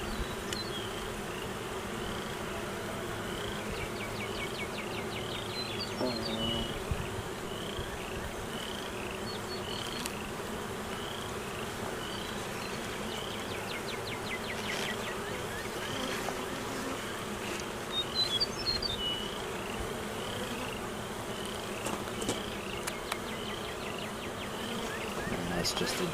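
Honeybees buzz continuously during a beehive inspection, a close, steady drone with brief louder swells as individual bees pass near, lasting throughout.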